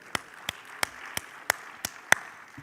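Seven sparse, evenly spaced claps ring out at a conference lecture as an audience begins applauding a speaker, thin and faint rather than a full ovation.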